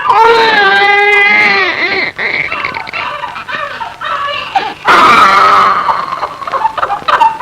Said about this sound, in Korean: 이 울음소리 들어보세요